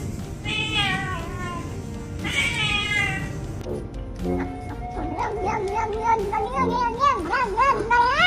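Cat meowing several times, drawn-out wavering cries close by, mixed with the high voices of children talking in the background.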